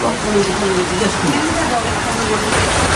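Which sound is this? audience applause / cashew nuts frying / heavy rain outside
heavy rain outside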